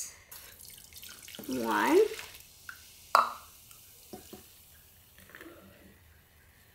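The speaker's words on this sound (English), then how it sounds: "So now we need to pour in 3 cups." Liquid poured by hand into a container while making apple cider donuts, a gurgling pour swelling for a couple of seconds then stopping, followed by a few short knocks and handling noises, with a voice briefly counting.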